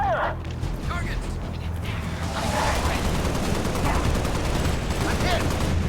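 Rapid gunfire and explosions from the top-down video game Halo: Spartan Assault, dense overlapping shots rattling continuously at close range, with game voices faintly underneath.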